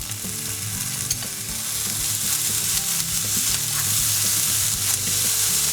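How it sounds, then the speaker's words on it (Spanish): Spring onion, garlic and ginger sauté in a hot pan, with a continuous sizzle and soft stirring scrapes and clinks over the whole stretch, growing a little louder toward the end. "Cuando veamos que la cebolleta ya está blandita, incorporamos el ajo y el jengibre."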